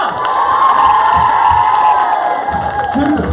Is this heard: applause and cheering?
yes